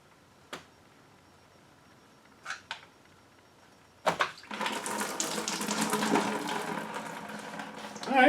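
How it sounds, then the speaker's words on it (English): Coolant pouring from a 2009-era Audi S4 into a bucket: a few faint clicks and taps, then a sudden loud splashing stream of liquid that runs on steadily and swells at the end. "I got to get a bucket or something under here because coolant's going to start flowing"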